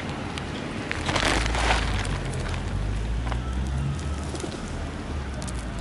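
Low cooing of pigeons close by at a churchyard in Ryde, continuous over a rustling, crackly outdoor background, with no voices.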